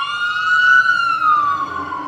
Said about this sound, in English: let the ambulance go